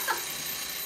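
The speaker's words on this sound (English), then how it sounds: "And there goes the timer for my peaches." A kitchen timer goes off while peaches cook, a short high electronic beep near the start followed by a sustained steady tone, brief and moderately loud with no talking.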